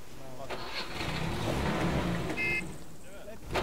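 A loud truck engine in ArmA 3 rumbles continuously with a rough mechanical drone, under short bursts of voices and a couple of sharp clicks.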